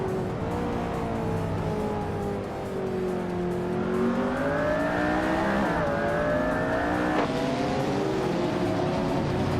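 A 2020 Noble M500 and other race cars in a racing game, engines droning and climbing through the revs with a rising tone, a quick shift, and a sharp upshift near the end, loud and steady.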